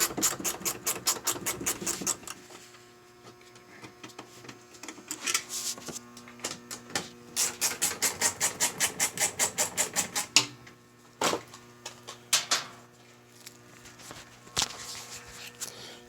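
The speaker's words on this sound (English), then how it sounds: "Then it's best to have a 10mm wrench. I got a ratcheting one, so it saves time." A ratcheting 10mm wrench turns bolts on the passenger door of a 2008 Toyota Sienna, giving bursts of rapid, close clicks in several runs separated by pauses, with a few isolated knocks and no talking.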